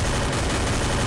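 Scoped sniper headshot in a video game, a dense burst of loud gunfire filling a brief moment with sharp blasts and no voices.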